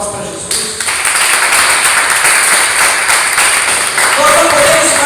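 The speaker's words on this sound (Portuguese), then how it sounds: "Uma salva de palmas para Jesus." A church congregation applauding for Jesus, a loud dense wash of many hands clapping that swells and holds steadily throughout.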